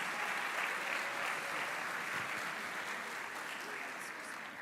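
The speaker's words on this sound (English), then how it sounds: "Let's take a moment to give a big round of applause to all of our incredible community partners" At a youth academy graduation ceremony, a large audience applauds in a steady, dense wash heard from a distance, fairly faint and even throughout with slight fading.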